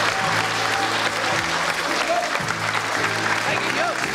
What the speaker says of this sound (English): Now, a big round of applause for Pippa and for Thomas.